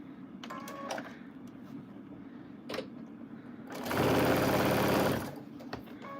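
A sewing machine stitches down a quilt strip in a short, fast whirring burst of about a second and a half, with quiet handling noises before and after.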